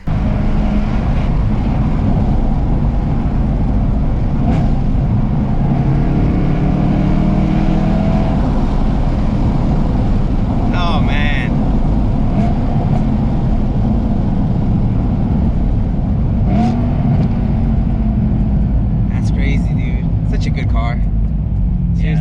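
A 2008 BMW M3 E92 with a DCT gearbox drones along with a steady engine note and faint rising and falling revs, while people talk over it throughout.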